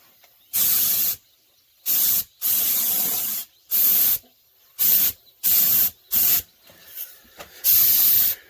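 A spray gun lays light coats of paint on the rocker panels of a Ford F-150 in a series of about nine separate close hissing bursts, each lasting under a second to about a second and a half, with quiet gaps between them.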